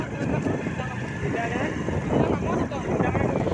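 A motorbike rides along a village road with a steady, close engine rumble and wind noise buffeting the microphone. A person talks over it.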